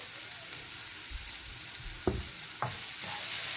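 Egg idiyappam kottu is stirred in a frying pan over a quiet sizzle, with a few sharp spoon scrapes and knocks against the pan near the end.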